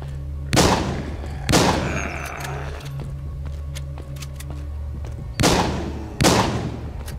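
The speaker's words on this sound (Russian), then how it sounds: "Давайте с дробовичка еще раз постреляем" Shotgun blasts fired at zombies in the mobile-style shooter The Walking Zombie 2, played on PC: four loud, sharp reports in two widely spaced pairs, with a low steady game hum running underneath.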